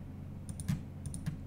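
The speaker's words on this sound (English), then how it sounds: "when I press the A button on my keyboard" Computer keyboard keys pressed a few times at a desk, with soft separate clicks and taps close by over a low background hum, no voices.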